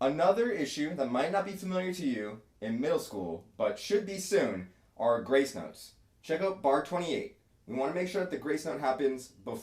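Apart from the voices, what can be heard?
No everyday noises stand out.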